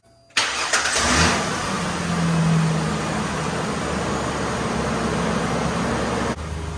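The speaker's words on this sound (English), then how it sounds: "At this point, I'm going to go ahead and start it up," A 1999–2010 Ford Ranger cranks and fires up right after a belt and idler replacement, then settles into a steady, fairly loud idle close by, with no talking over it.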